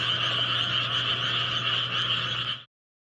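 A dense chorus of frogs croaks steadily at night in a rural border area near the North Korean border in Ganghwa County, a continuous trilling drone heard alone at moderate distance before cutting off abruptly.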